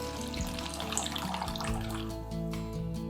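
Water poured steadily into a bowl of vegan brioche dough ingredients, a continuous close splashing trickle lasting a few seconds.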